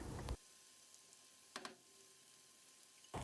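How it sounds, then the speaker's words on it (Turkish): Eggplant with pepper paste sautés in a pan, giving a faint, steady sizzle broken by a few brief clicks of stirring. "birlikte kokusu çıkana kadar kavurma işlemine devam ediyorum"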